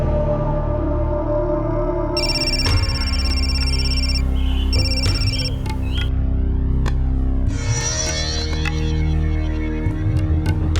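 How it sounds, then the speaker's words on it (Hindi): A landline telephone rings with repeated electronic trill bursts over a steady hum and background music in a Hindi crime drama scene, loud and close, with no talk during the rings. "सुखलाल जी का फोन है।"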